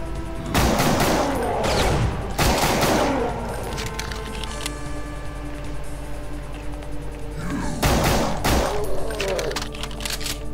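Gunfire bursts from a pistol in the shooter game Brutal Doom, several sharp loud volleys in quick clusters with ringing tails and quieter stretches between, over a steady game background.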